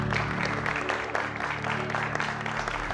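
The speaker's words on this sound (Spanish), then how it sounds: "Les vamos a dar un aplauso." An audience applauds in a hall, a dense wash of clapping heard behind a steady tonal hum, moderately loud and unbroken for a few seconds.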